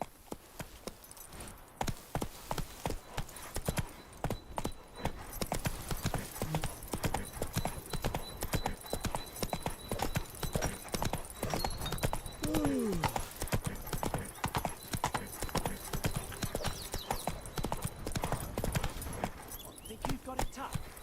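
Horse hooves galloping in rapid, continuous clip-clop on hard ground in the Witcher 3 video game, with a brief whinny partway through and a voice speaking over it.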